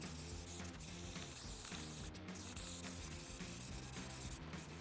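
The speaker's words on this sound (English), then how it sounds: "Giving the whole thing a quick coat of gray primer." Gray primer sprayed from an aerosol can over a homemade wooden laundry chute door, a steady continuous hiss lasting throughout, close and fairly loud with no talking.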